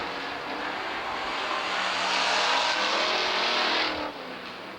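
Race cars roar around Southern Oregon Speedway's oval, engines building to a loud, sustained near pass before the noise drops off sharply near the end.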